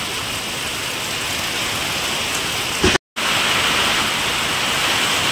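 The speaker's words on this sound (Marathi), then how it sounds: "खूप असं जोरात पाऊस चालू" Heavy rain pours down steadily during a thunderstorm with lightning, a dense continuous hiss that cuts out completely for a split second midway and then resumes just as loud.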